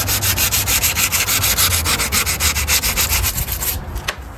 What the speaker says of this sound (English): Sandpaper number 220.